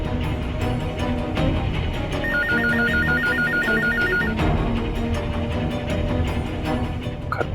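A landline telephone rings steadily and repeatedly with an electronic warble, and nobody picks up.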